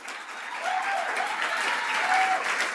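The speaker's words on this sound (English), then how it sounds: "let's give a big round of applause to Josh Adeem and Alana Vandermeer." A crowd at an athletics banquet applauds steadily, with the clapping building slightly and holding at a moderate level.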